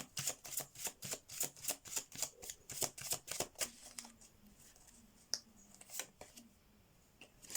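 A deck of oracle cards is shuffled up close in a quiet room, a rapid run of crisp riffling flicks followed by a few softer, slower card taps.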